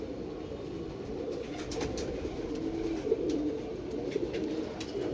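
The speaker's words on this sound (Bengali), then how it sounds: "হ্যাঁ, এই পায়রা দেখুন।" Pigeons, black Andhra birds, coo softly and repeatedly at close range, with a low throaty murmur over faint background noise and a few light clicks.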